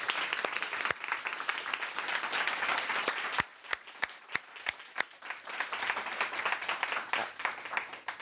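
Sustained audience applause closes a science talk on biomimicry and regenerative design, a dense even patter of many clapping hands with a few sharper individual claps standing out near the middle.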